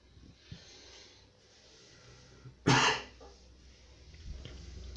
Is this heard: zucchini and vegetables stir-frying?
no